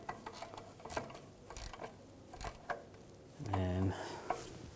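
An 18mm ratchet wrench tightens a rear sway bar link nut on a 2006-2010 BMW 550i. Faint, close pawl clicks come in short bursts, with a brief low voice in the quiet garage.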